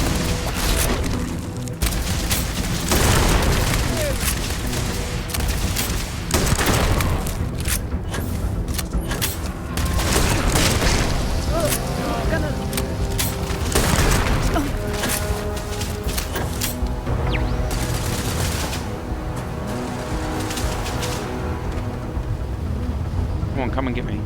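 Gunfire and booming blasts in the video game Starfield, a series of loud, irregular shots and impacts spread across a long stretch of combat noise with rumbling background.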